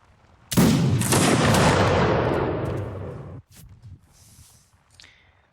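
A musket volley fires in the Mount & Blade multiplayer game: a loud, dense crackle of many shots at once that rumbles and fades over about three seconds, followed by faint scattered clatter.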